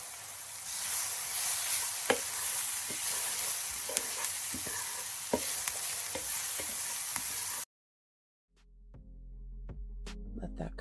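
Garlic and oregano cook in a pan with a steady, close sizzle broken by small taps and stirring, then the sound cuts out and a different, quieter scene follows.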